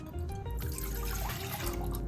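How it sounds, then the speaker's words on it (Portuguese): Water pours into a cooking pan as the first step of a lemon curd, a continuous, close trickling splash that runs steadily throughout. "na panela você vai colocar a água"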